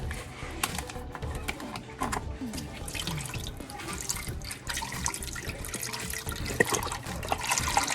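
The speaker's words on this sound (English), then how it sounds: "I'm going to add a quart of chicken broth" A quart of chicken broth pours in a steady gurgling stream into a pot already holding butter and a smoked turkey neck, with irregular splashes and clatter and no voices over it.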